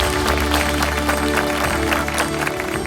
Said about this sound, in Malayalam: വലിയൊരു കയ്യടി കൊടുത്ത് നമുക്ക് പ്രോത്സാഹിപ്പിക്കാം